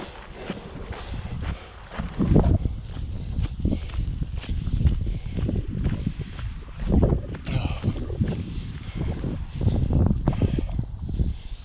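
Wind gusts across the microphone during a half-marathon trail run at the Wildflower Trail Runs in Bastrop, Texas. The low, buffeting rumble swells and fades unevenly, with soft rhythmic thuds mixed in throughout.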